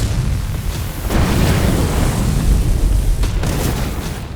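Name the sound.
massive explosion of a fuel tanker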